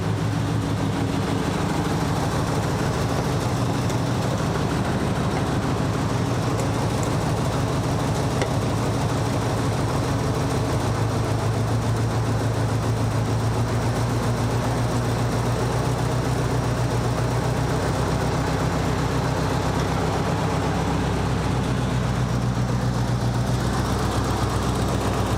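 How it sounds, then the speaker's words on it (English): Nissan 200sx engine idling steadily and loudly throughout in a garage, a low continuous drone with a faint whine from the alternator running underneath, no pauses or speech. "I think I'm hearing the alternator make some angry noises."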